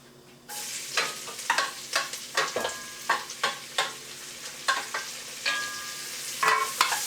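Chopped vegetables for 15-bean soup are stirred in a pot, a sizzling hiss broken by a regular run of close scraping spoon strokes against the pot, roughly two per second.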